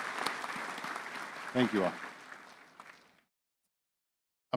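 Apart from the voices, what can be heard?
commencement audience applauding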